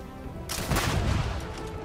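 Weapon fire in the space game Starfield: a loud, dense burst of shots starting abruptly and rattling on for about a second, with no voices over it.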